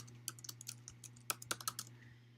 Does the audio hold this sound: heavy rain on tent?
no